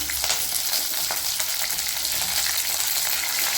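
Chana dal, urad dal, green chilies and curry leaves fry in hot oil, a dense, even crackling sizzle close up with faint stirring, loud and unbroken for a few seconds, no voices.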